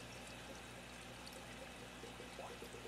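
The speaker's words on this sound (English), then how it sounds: "eventually it will kick in and it'll just start sucking all the water out." Water being drawn out of an aquaponics tank by a pump or siphon that has just kicked in, giving a steady continuous pouring, trickling wash with faint gurgles, close and even throughout with no talking.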